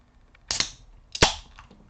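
Carlsberg lager bottle cracked open at a homemade bar: two sharp clicks about three quarters of a second apart, each followed by a quick, bright hiss of escaping gas, close and alone.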